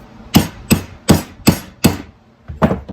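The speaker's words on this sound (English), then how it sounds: "Just gotta keep alternating sides I'm hitting here." Close, loud metal hammer blows knocking seized old wheel bearings out of a CR250 motorcycle wheel hub: five sharp, evenly spaced strikes, a short pause, then two quicker hits. No speech.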